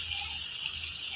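Water streams steadily into a pan of fried kachnar (bauhinia bud) masala, a continuous close, hissing gush with no talk.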